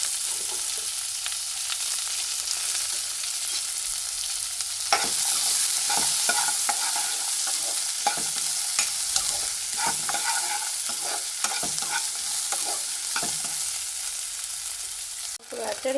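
Onion, green chillies, curry leaves, capsicum and carrot stir-frying in a pan: a continuous loud sizzle with frequent rhythmic scraping and clattering of a spoon, no voices.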